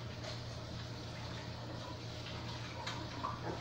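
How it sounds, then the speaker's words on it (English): Hands are washed under a running kitchen tap mid-cooking, giving a steady, close wash of flowing water that holds evenly from start to finish with no voices. "I'm going to wash my hands"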